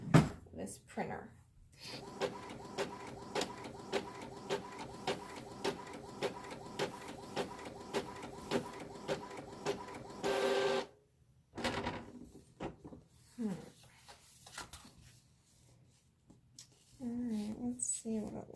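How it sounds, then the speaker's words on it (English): An Avery label printer runs with a steady train of rhythmic mechanical clicks and feeds, then falls briefly silent before further whirring and handling noises; a person speaks faintly near the end. "this printer."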